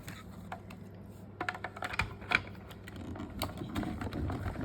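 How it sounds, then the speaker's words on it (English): A paper-chain cutting die goes through a hand-cranked die-cutting machine, giving a close run of quick, irregular mechanical clicks and rattles that build into a denser grinding rumble. "put that through your machine like that. And just cut that."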